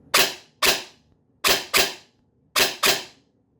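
An airsoft DSG gun with its stock motor fires on semi-auto: six sharp, snappy shots in three close pairs, each a loud crack with a quick decay, heard close up against a quiet background.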